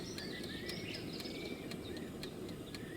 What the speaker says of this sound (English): The birds you can hear are toohees and bellbirds.